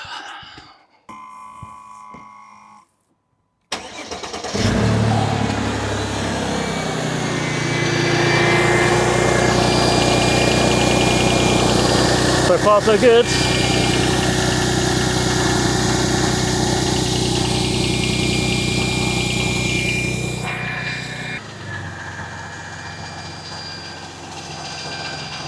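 A Mercedes SL engine after a water pump replacement cranks, catches and settles into a steady, close idle with a light mechanical hum; brief talk and some clicks come before the start.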